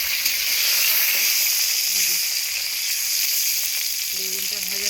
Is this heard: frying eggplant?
yes